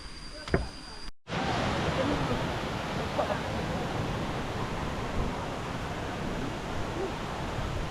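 The Kuang Si waterfall roars in a steady, broad rush of falling water that starts abruptly after a brief gap and stays loud and close throughout.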